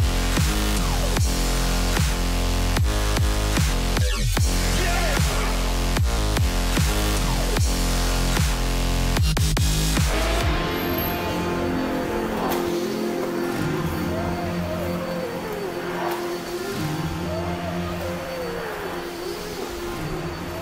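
A floor milling and grinding machine works a garage floor being prepared for coating, giving a loud, steady motor drone with harsh grinding that runs the whole time and shifts in tone about halfway through.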